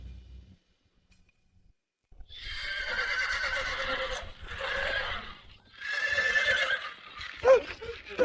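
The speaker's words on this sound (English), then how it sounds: "the horse seems to have gone mad" A horse neighing wildly, three long loud whinnies in a row with brief gaps between them, close by and clear, and a faint knock just before.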